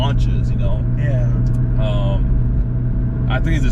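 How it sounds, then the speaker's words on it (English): A 600 WHP Audi S3 with a DSG transmission launches hard under launch control, a loud, continuous low engine roar that stays close and steady throughout, with people talking over it. "And the car launches."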